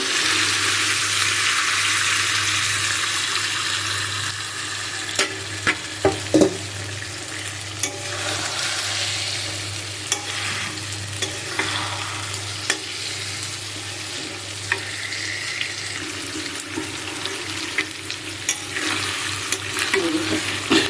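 Lentil dumplings (bori) frying in a spiced masala, with a steady sizzle and repeated scraping stirs in the pan, plus a few sharper clinks of the utensil against the pot, close up and with no talk.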